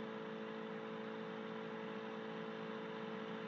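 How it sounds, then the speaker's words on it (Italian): A P2002 light aircraft engine idles steadily on the ground at an airstrip, a constant mid-pitched hum with a whirring drone holding level for a few seconds, no voices over it. "Un motore al minimo."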